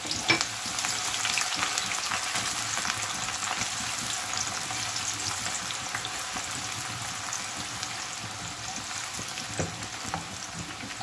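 Onions frying in half a cup of oil for a mixed vegetable sabzi, a steady dense sizzle that holds loud and even throughout with faint scattered crackles and no talking.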